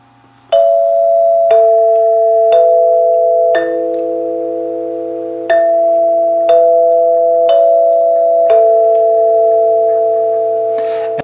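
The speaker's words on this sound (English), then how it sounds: "the real money here is the 8-note Westminster chime, and we'll go ahead and push that and let you hear it again" A NuTone L60 Sunburst door chime plays its 8-note Westminster melody, eight bright struck bar tones at an even pace, each ringing and decaying into the next, loud and close in a quiet room.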